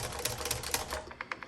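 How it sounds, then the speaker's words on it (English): A 1950 Underwood Champion manual typewriter being typed on at a steady pace. Crisp mechanical key strikes clack one after another, close and clear, with no voices. "Okay, let's do some typing."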